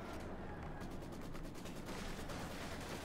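Machine gun fire in a Company of Heroes 2 battle, with dense continuous rattling gunfire and battle noise filling the mix, loud and steady throughout.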